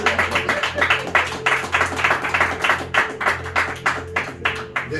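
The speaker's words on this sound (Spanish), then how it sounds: "Dale un fuerte aplauso." A church congregation claps along during a sermon on envy, a loud, steady run of rhythmic, close hand claps lasting several seconds.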